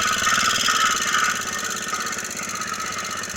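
An old cultivator motor mounted on a motorized bike runs steadily at close range, giving a loud, continuous, buzzing mechanical drone with rapid pulsing and a slight drop in level partway through.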